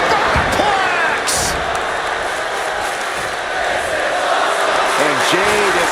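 A superplex off the top rope lands with a heavy slam in the WWE 2K25 wrestling video game, set against a constant roaring arena crowd and a busy mix of game sound.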